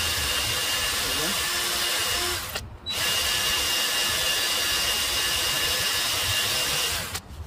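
A power drill whines steadily and loudly drilling out a broken exhaust manifold bolt on a Volvo B7 double-decker bus engine, briefly stopping partway through, then running again before a short cutoff near the end.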